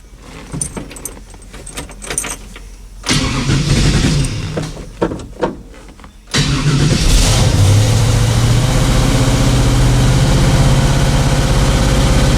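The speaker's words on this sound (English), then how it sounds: "let's fire this thing up, put some miles on it" A 1968 Chevy Camaro is started: keys jangle in the ignition for several seconds, then the engine catches with a loud burst and settles into a steady, rumbling idle close by.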